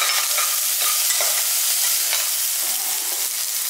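Coconut and roasted gram roasting in a pan, a steady dry sizzle with light stirring scrapes, close and even throughout.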